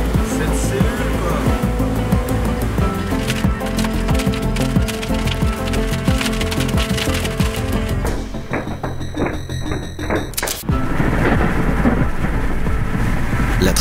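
Rumbling thunder from a lightning storm in Tornado Alley rolls through steady rain, with a loud crack near the end; people speak excitedly in the background.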